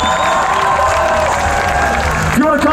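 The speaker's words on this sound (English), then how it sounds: "applause for these boys who've been catching people all day" A Warped Tour concert crowd claps and cheers loudly, a dense roar of applause and shouts that builds slightly near the end, with a voice cutting in briefly.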